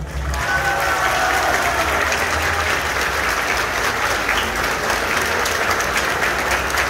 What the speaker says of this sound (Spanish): hagamos extensivo nuestro reconocimiento y un fuerte aplauso para los familiares